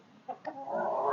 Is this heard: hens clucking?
yes